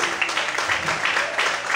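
A church congregation applauds together during an evening service, a dense, continuous wash of clapping heard from a short distance, with possible faint voices mixed in.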